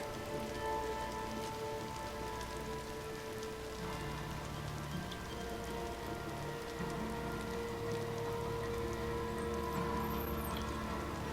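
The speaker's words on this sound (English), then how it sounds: "Let that rain work its magic." Steady rain falls in the post-apocalyptic video game Days Gone, a continuous dense patter of drops on surfaces with no talking.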